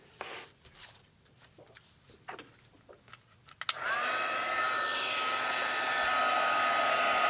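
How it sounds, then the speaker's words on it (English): A heat tool switches on with a sharp click and then blows a steady, loud whirring roar to melt embossing powder on a stamped card, following a few seconds of quiet handling noises. "And now I'm going to emboss these using my heat tool."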